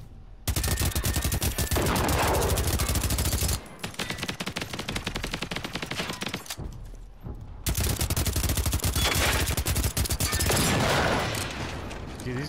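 Rapid automatic gunfire from guns in Generation Zero, played co-op, rattles in long, loud, dense bursts broken by short pauses, with faint talk underneath.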